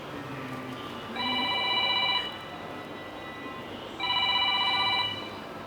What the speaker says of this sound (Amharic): ስልኩ እየጠራ ነው